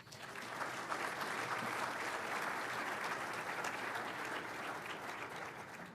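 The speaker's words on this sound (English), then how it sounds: "how about one more round of applause?" An audience at an AUSA professional development forum for the Sergeant Major of the Army applauds continuously, a dense, even wash of many hands clapping that holds steady throughout, with no voices.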